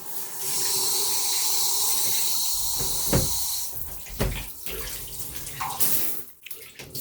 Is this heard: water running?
yes